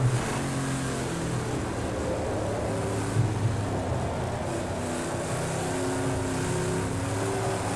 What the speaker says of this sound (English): You can hear the tires just squealing in agony.